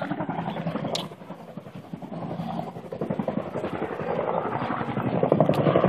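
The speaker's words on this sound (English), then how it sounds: "Wonder what the military helicopter's doing here." A low-flying military medic helicopter thumps with a rapid rotor beat, swelling louder and closer toward the end, mixed with some wind buffeting.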